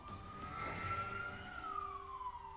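An ambulance siren wails steadily with a slowly gliding pitch, fairly loud and continuous, with traffic rumble underneath and no talking.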